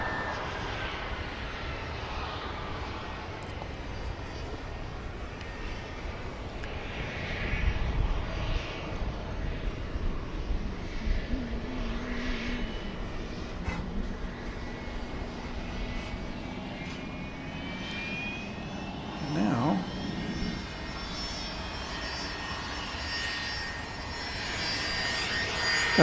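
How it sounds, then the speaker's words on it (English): A jet airplane taxiing at Dallas Love Field airport at night, a continuous distant engine whine and rumble with shifting tones, steady and moderately loud, with faint voices in the background. "Got a plane taxiing."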